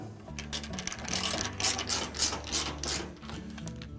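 A powered screwdriver driving screws into the bulkhead of a Whirlpool clothes dryer, giving a close, steady mechanical whirring with a fast rhythmic ratcheting clatter, alone and moderately quiet.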